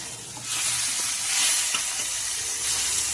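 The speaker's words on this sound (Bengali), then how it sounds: "উল্টে দিয়ে আর এক পিঠও ভালো করে ভেজে নিচ্ছি।" Katla fish pieces fry in hot oil with a loud, dense, close sizzle and crackle that rises as they are turned and then holds steady, with no voices.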